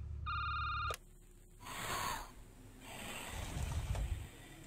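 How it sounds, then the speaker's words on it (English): An old-style telephone bell rings in the indie horror video game Security Booth, a short clear electronic trill lasting under a second, followed by quieter rustling and low rumbling game ambience with no voices. "I just need to answer the phone, I guess."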